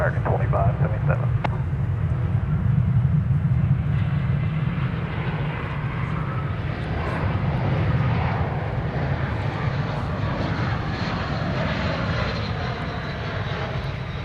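American Airlines jet taking off from runway 18 left at DFW Airport, a broad, sustained engine roar that swells and holds across the whole stretch while a voice talks over it.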